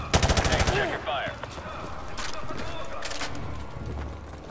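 Gunfire in the video game Call of Duty Modern Warfare 2: a fast burst of automatic fire opens, followed by scattered single shots and battle noise with game voices speaking.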